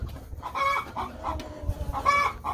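Chickens and a rooster on a farm cluck and holler in a run of short, repeated calls close by, with louder squawks near the start and end over a busy background of scratching.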